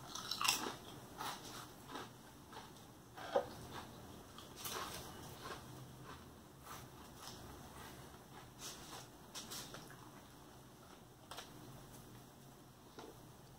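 Lays Cuban Sandwich flavored wavy chips are bitten and chewed close up, quiet crisp crunches repeating irregularly over a near-silent room.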